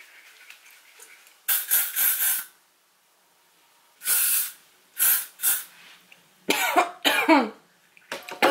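Several short bursts of L'Oreal Supreme Hold hairspray hiss close by, separated by quiet pauses, followed by coughing near the end.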